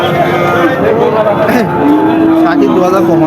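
Cattle at a busy livestock market, with low lowing and moo-like calls rising over constant crowd babble and loud nearby talk.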